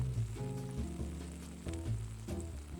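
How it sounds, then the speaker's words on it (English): Steady frying sizzle of an omelette in a frying pan, with a low hum and a faint hiss, continuous and close, with no voices. "Now you should be able to hear the sizzling."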